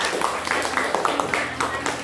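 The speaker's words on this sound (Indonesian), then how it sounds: "Tepuk tangan lagi buat si Elvis." Schoolchildren in a classroom clap together for a classmate, a brief burst of quick, scattered hand claps at moderate volume with some voices underneath.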